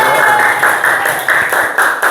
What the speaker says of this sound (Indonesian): tepuk tangan dulu untuk kalian semua dong